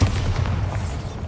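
A Bombarda spell explodes in the Hogwarts Legacy video game: one deep, rumbling boom that rolls on at steady loudness for over a second, with no voices.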